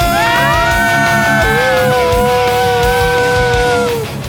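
Riders scream on a high-speed water slide reaching about 72 km per hour, with loud, sustained, wavering yells over a constant rushing roar.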